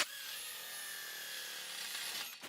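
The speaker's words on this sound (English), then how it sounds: "So I keep a 1/4-inch drill with me." A 1/4-inch power drill with a magnetic tip whines steadily at high speed for a couple of seconds, then cuts out.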